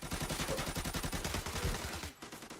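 Sustained automatic gunfire from a gunfight in Arena Breakout: a rapid, evenly spaced stream of loud, close shots lasting about two seconds, then a brief pause and a few scattered final shots.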